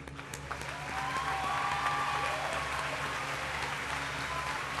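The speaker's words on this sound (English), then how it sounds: "Teachers, please stand so our seniors can applaud for you." Graduating high school seniors applaud their teachers at a 2014 commencement ceremony, a sustained wash of crowd clapping that swells within the first second and holds steady, heard from a moderate distance in a large space.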